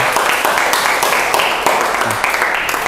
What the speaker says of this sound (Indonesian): Tepuk tangan untuk kita semua yuk